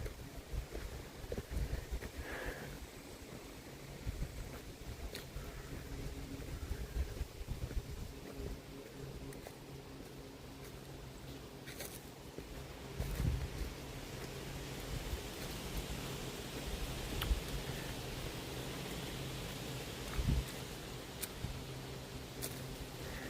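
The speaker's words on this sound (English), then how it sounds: "so it's this windy down low" Steady wind rushes and roars through the open air of the woods in East Tennessee in fall, with occasional gusts and faint creaks, no one speaking.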